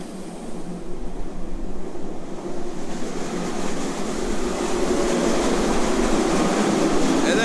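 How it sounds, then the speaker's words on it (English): Winter feed barley is pushed with a bucket down a pit to an auger in a grain store, making a steady rushing, scraping hiss that grows slightly louder and denser as it goes. "This is feed barley, winter barley, and it goes down that pit. I need to push all this in with a bucket."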